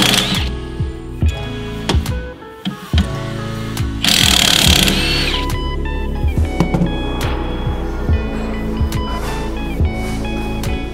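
A power tool removes the upper nuts and lower bolts from a GIGANT air spring unit, with repeated bursts of mechanical whirring and metallic clanks, one longer loud spell midway, over a constant background hum.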